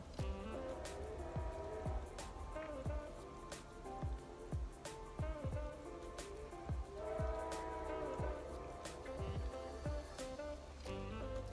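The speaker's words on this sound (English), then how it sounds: "I'm going to wait for this train to go by so that I can do my outro." A train rumbles past nearby with a steady heavy drone and repeated clacking of wheels over rail joints, growing and fading slightly.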